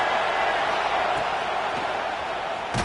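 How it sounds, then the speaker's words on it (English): The crowd roars in a football stadium early in the game, a loud environment for the visiting team. The sound is a steady, dense wash of noise that continues throughout without pause. "Listen to the crowd energy here in the early going."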